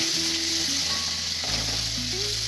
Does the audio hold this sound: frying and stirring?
yes